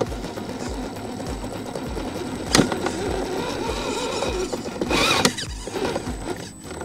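An RGT Rescuer EX86190 RC rock crawler's electric motor whirs steadily while driving over rocks, with sharp knocks and scrapes of the chassis around the middle and near the end.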